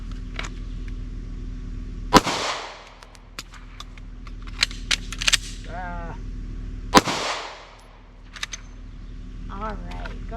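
Two sharp, loud pistol shots ring out about five seconds apart at an outdoor shooting range, each followed by a fading echo, with quieter clicks and brief chirps between them.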